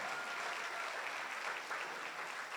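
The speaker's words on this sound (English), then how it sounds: "But how nice, a warm round of applause." Steady applause from a wedding crowd in a civic hall, even and sustained throughout, with no talking.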